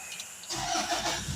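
A Toyota Land Cruiser Prado engine cranks and catches after a brief quiet moment, settling into a steady running rumble close to the listener.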